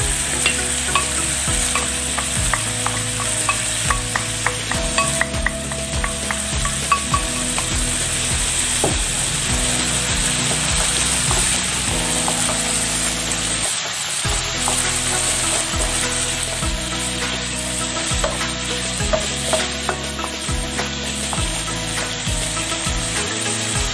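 Curry paste of fresh chilli, shallot and garlic fries in a pan, giving a steady close sizzle broken by repeated scraping and stirring clatter from a utensil.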